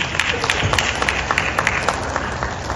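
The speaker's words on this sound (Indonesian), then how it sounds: "Tepuk tangan untuk kita semua" Audience clapping at a university teacher-education gathering, a brief, close burst of sharp, steady claps from a crowd.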